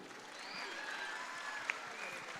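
Faint, distant applause from an audience at a school annual day celebration, a soft steady wash of clapping throughout.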